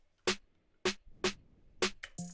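Two snares trade hits in a hyperpop/glitchcore beat, a bit-crushed snare and a clean snare, giving four sharp, evenly spaced cracks with a gritty, crunchy burst closing the pattern, dry and alone.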